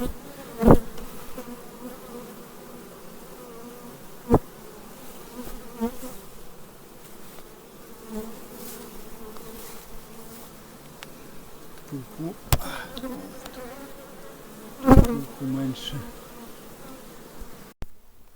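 Steady buzzing of many honeybees at the hive hums throughout, with a few sharp knocks and taps scattered over the drone; no talking.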